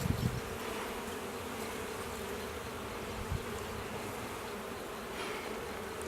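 Honey bees buzz at an open hive during May maintenance, a dense, steady drone of many insects close by, with a couple of brief knocks and no talking.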